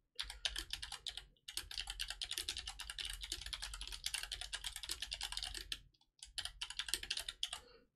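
Rapid keystrokes on a computer keyboard while a project name is typed, close and crisp, in steady bursts broken by two short pauses.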